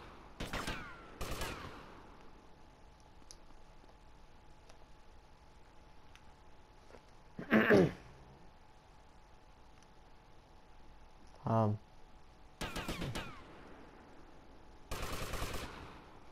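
Gunfire in GTA Vice City, sparse loud bursts of shots spaced several seconds apart, some short double cracks and a couple of heavier booming rounds, over a quiet game background.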